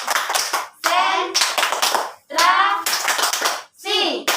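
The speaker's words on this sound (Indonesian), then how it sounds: "Kita mau tepuk konsentrasi" Children in a classroom clap in a chant-like pattern, loud bursts of clapping alternating with stretches of young voices speaking in unison, all close by.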